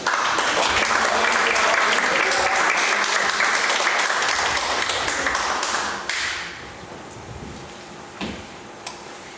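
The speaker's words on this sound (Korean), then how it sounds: "우리 큰 박수 하겠습니다" Church assembly congregation at an opening worship service breaks into loud, dense applause for a pastor coming forward, sustained for about six seconds before thinning into a few scattered claps and faint room noise.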